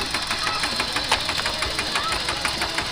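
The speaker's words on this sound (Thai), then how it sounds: "ขับรถไถโดนแล้ว" A tractor engine runs steadily up close, its loud, rhythmic knocking chug continuing without a break.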